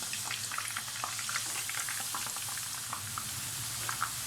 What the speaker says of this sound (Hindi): मीडियम फ्लेम के ऊपर हमने इनके क्रिस्प होने तक या हल्का सा ब्राउन कलर इनके आने तक इनको फ्राई कर लेना है